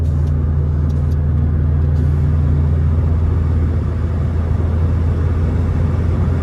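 Subaru WRX engine pulling in third gear, a loud, steady low droning rumble heard from inside the car, with no clear rise in pitch over the stretch.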